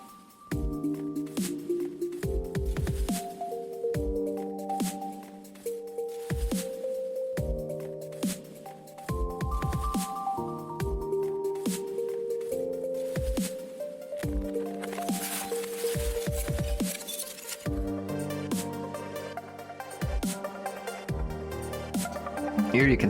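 Thick paint poured from a bottle onto a canvas, with wet squishing and dripping under steady background music.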